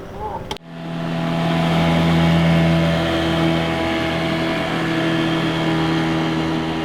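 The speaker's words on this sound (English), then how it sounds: "There was all kinds of river traffic passing our berth at Burnt Key." Motorized river traffic passing a moored sailboat at a berth at Burnt Key: a sharp knock, then a boat engine's drone swells and holds as a steady, fairly loud hum with a faint tonal whine.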